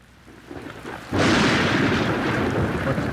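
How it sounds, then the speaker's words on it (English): A low rumble builds, then heavy rain suddenly pours down onto a shed in a dense, steady roar that continues loudly to the end. "The rain poured down onto their shed."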